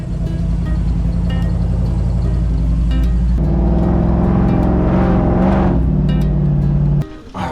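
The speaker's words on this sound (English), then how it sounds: "Take the tow truck." A tow truck drives with a loud, steady engine rumble and whine that rises as it accelerates midway, then drops away sharply near the end.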